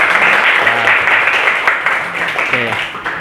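Steady audience applause at the opening of a community event, loud and continuous, with voices speaking over the clapping at times.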